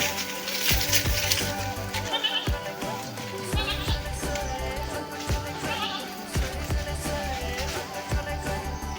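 Several goats bleat repeatedly at close range, their wavering calls overlapping against a steady background hum.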